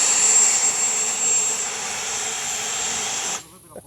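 A Freewing Ares 90mm EDF jet model on 8S power runs its ducted fan at a steady high-pitched roar with a thin whine, then cuts off abruptly, leaving a brief low rumble.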